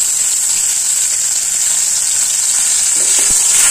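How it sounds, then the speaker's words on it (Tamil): Mustard seeds, fenugreek and urad dal sizzle in hot oil while being tempered for gongura thokku, a loud, steady frying hiss that runs close and unbroken throughout. "எண்ணெய் ஊற்றிட்டு இதுலேயே நம்ம கடுகு வெந்தயம் உளுத்தம் பருப்பு எல்லாம் போட்டாச்சு"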